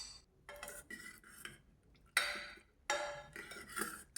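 Metal clanks and clinks as a pressure cooker of cooked jackfruit seeds is opened, several sharp separate knocks of lid and pot in a quiet kitchen, with no talk.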